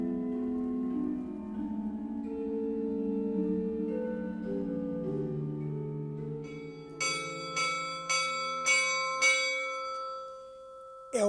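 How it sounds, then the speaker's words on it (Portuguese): Misericórdia church bell in Pedrógão, a church dating from 1470, rung as an alarm: several loud, ringing strikes in quick succession near the end, following a stretch of sustained harmonic tones. "É o sino da misericórdia que está a tocar a rebate."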